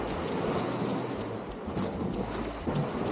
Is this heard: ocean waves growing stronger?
yes